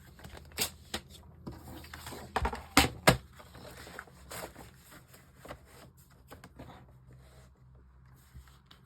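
Paper trimmer cutting cardstock down to a card base, heard as sharp clicks and slicing scrapes around the middle with quieter rustling and handling before and after, close and fairly faint.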